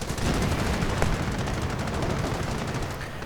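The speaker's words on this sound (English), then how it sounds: "Anti-tank gun fires away." Continuous gunfire from a World War II strategy game battle, with an anti-tank gun firing among rattling machine-gun bursts, loud and unbroken throughout.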